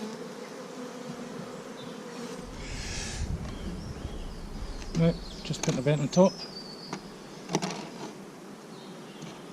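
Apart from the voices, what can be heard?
bees buzzing around hive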